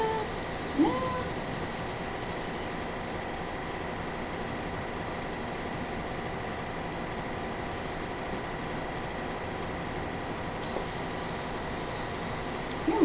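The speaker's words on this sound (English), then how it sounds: "I'm going in too ham with the airbrush in the beginning." Steady airbrush hiss spraying alcohol ink onto Yupo paper for roses, a continuous airy spray running almost unbroken through the whole stretch at a moderate level, with a faint low hum beneath.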